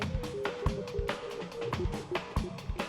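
Synth music live-coded in Strudel with repeating plucked notes and drum hits, a delay effect trailing each note into soft echoing repeats that blur the rhythm.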